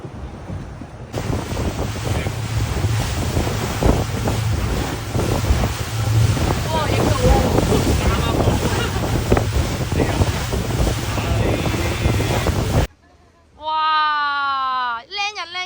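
A sightseeing tour boat cruising slowly on the sea near volcanic sea arches, with a loud, steady wash of engine, water and wind buffeting the microphone that cuts off abruptly near the end, followed by a brief burst of voices.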